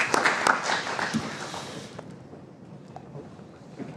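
Conference audience applause at a land and property research event, a brief burst of clapping that fades after about two seconds into quieter room noise with a few scattered claps.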